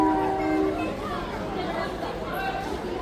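A small narrow-gauge train rolls into Kalka railway station with a low rumble and brief horn tones at the start, while people chatter nearby throughout.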